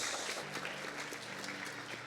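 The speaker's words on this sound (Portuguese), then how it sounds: "Aplauda o nome de Jesus" Church congregation applauding at a conference, a steady wash of many hands clapping, fairly faint and even for a couple of seconds.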